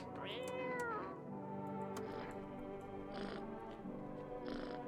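Cat meowing in the video game No, I'm Not a Human, several drawn-out plaintive meows in succession, fairly close and alone.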